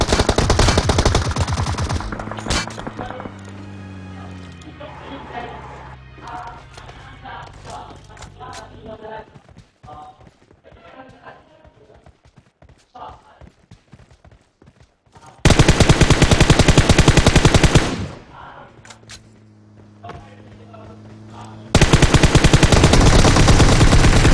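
Gunfire from the PUBG battle royale video game: loud, dense automatic bursts that dominate the mix in two stretches, with quieter game sounds in between.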